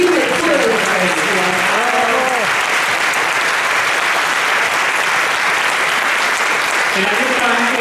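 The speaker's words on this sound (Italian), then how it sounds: "facciamogli un applauso come si deve" Steady, dense audience applause at a film festival opening in Milan, loud and continuous throughout, with a voice speaking over the start and again near the end.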